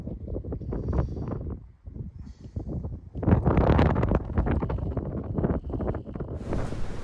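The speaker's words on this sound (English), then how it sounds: "It was a bit gusty, but the winds weren't too bad," Rough gusts of wind buffet the microphone in uneven bursts, rising and falling loudly throughout with a blustery outdoor rush, on a campsite at Prewitt Ridge overlooking the Big Sur coast.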